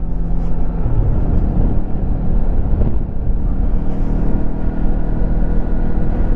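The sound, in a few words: 2025 Lifan KPT 400 motorcycle riding on back roads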